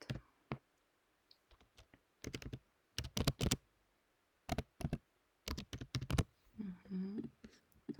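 Gmail password typed on a computer keyboard, quiet close clusters of key clicks in uneven bursts with pauses between, and a soft voice murmuring briefly near the end.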